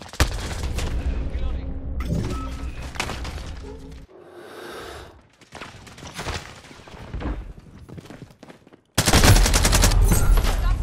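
Call of Duty Modern Warfare game combat with loud bursts of automatic gunfire and rapid shots, cutting in and out with brief pauses, ending in a dense close volley; voices call out amid the shooting.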